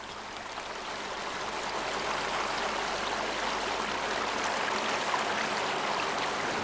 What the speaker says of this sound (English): which come together as streams, a rill, a race, and a torrent